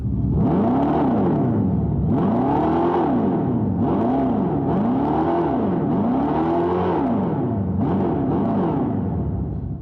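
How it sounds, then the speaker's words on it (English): Simulated V8 engine sound from a Dodge Charger EV revved in neutral, loud and close, rising and falling in about six repeated swells, the last cut short, with a steady synthetic drone underneath. "Ah yes, the sweet revs of a digital V8."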